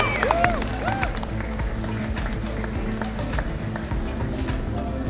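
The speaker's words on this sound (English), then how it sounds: "Round of applause, please, for Alejandro." A crowd claps in a dense, steady patter of applause, fairly close, with a few whoops rising briefly at the start, at a world final cake-making competition.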